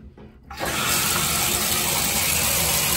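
Water sprays from a bathtub tap onto a leopard gecko tank item, starting abruptly after a brief quiet moment and then rushing loudly and steadily, close by, with no talking.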